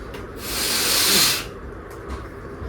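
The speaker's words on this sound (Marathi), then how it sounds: "तो एक जेट आहे ते जेट स्प्रे" A jet spray blower cleaning a PC in a shop lets out one loud, sharp hiss of air lasting about a second, with faint short puffs after it.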